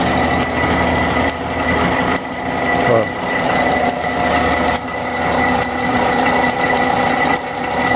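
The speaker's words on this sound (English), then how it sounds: "there's 60 cycle on the drill press, and that's probably that's actually its highest speed" A drill press motor, run at 60 Hz from a variable frequency drive at its highest speed, hums steadily with a whine and mechanical rattle, a brief clunk partway through, continuous throughout.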